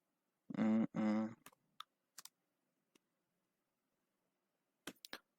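Computer keyboard typing: a few scattered soft key clicks, faint and close, follow a short burst of speech and come in sparse, irregular taps near the end.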